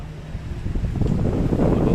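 A repaired electric fan that had been stuck and would not spin runs steadily with a broad whooshing hum, its airflow noise growing slightly louder and fuller over the two seconds.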